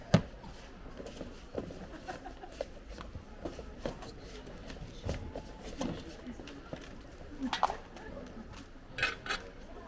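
Butter and sugar creamed in a bowl for a stollen, with a spoon and a spatula scraping and knocking against the sides in irregular, close clinks and rubs over a low background murmur.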